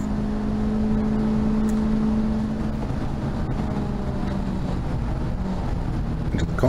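A race car at Thruxton circuit during a TARC Tricolore race, heard from inside as a loud, constant engine drone that holds steady throughout.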